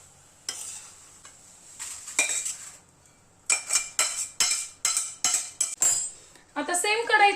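Roasted semolina scraped and tipped from a pan into another vessel: several short scraping and clinking bursts of a spoon against metal, fairly close, with brief pauses between them.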